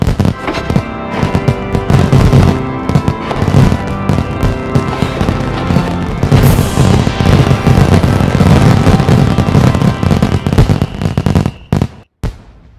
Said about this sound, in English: fireworks are added to create the ultimate garden spectacle